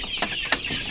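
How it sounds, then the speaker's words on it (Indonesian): Free-range ayam kampung chickens make a few short clucks close by, two quick bursts over a steady background hiss. "Ini ayam sehat teman-teman"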